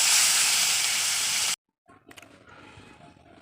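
Leftover fish oil, after cooking a rohu fish curry, fries alone in a pan with a loud, steady hiss for about a second and a half, then cuts off to near silence with faint clinks.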